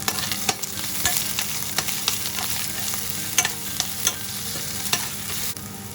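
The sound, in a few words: onion frying and stirred in olive oil in pan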